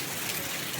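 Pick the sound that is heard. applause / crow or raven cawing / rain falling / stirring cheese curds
rain falling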